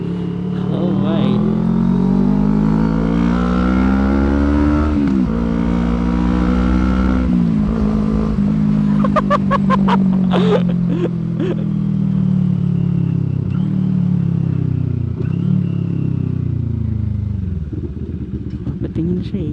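A 2020 CFMoto 400NK motorcycle's exhaust muffler drones loudly while riding, its engine note rising and falling as it revs and shifts, with clattering and wind around it.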